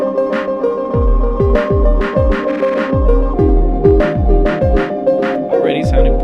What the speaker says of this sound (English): if we add a little drum track into it, nothing too fancy, just, a few kicks, a few snares, and a little bit of retrigs